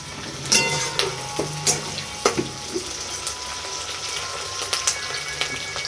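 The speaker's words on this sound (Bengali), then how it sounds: "এবার এগুলো লাল লাল করে ভেজে নেব।" Onions with a pinch of sugar fry in a pan, a soft sizzle under intermittent scraping clicks of stirring, close and fairly quiet.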